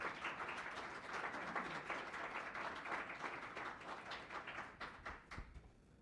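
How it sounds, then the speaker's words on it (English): A university crowd applauds as the interim president is welcomed to the podium: dense, sustained clapping fills the whole stretch and thins slightly toward the end. "So please, with a round of applause,"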